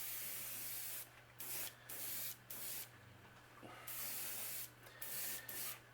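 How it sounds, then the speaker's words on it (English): A spray can hisses crack medium paint onto a crankbait lure in repeated close bursts of varying length, separated by short pauses with a faint steady hum underneath. "start spraying all over, and I keep spraying until it starts to crackle on its own"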